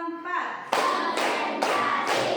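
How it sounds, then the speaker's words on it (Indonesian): Hands clap four times in a counted sequence during an Indonesian classroom lesson on computational thinking. Each clap is a sharp, close, evenly spaced smack, and a voice speaks briefly before the first one. "Tepuk 1, tepuk 2, tepuk 3, tepuk 4"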